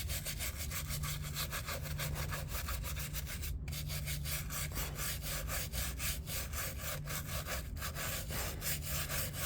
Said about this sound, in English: Scrub a little.